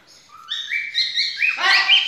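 Cockatiels in a cage give a quick run of bright, rising chirps and whistles, close and clear, with no talking.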